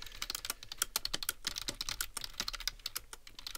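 Fast typing on a computer keyboard during a typing test: a dense, steady clatter of quick key presses at close range, with no voices.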